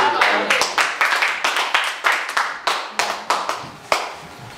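A church congregation clapping and acclaiming together, steady rhythmic handclaps in a roomy space with voices calling out beneath.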